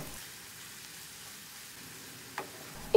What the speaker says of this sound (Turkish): Soğanlar ölene kadar kavuracağım.